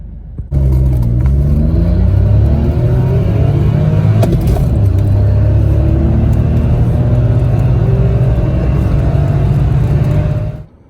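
Citroen C1 petrol hatchback fitted with a Nitro OBD2 tuning box, accelerating hard. The engine note climbs steadily through the gears and stays loud and continuous from start to finish, with no talking.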